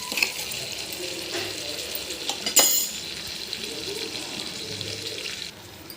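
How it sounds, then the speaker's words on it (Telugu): Turmeric and curry leaves frying in a pan for a pepper and moong dal rasam, a steady close sizzle with a brief stir or clatter in the middle, no talking. "పసుపు కరివేపాకు కూడా వేసేసాను ఇవన్నీ బాగా ఫ్రై చేసుకోవాలి"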